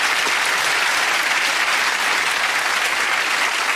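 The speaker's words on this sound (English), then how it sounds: "Oh, a little round of applause, I think." A television studio audience at a comedy entertainment show applauding, a dense, even, loud wash of clapping that holds steady throughout.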